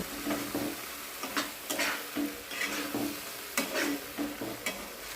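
Spice paste of ground melon seeds, poppy seeds and cashews sizzling in oil in a pan, stirred with a utensil that scrapes and knocks at irregular intervals, close and moderately loud.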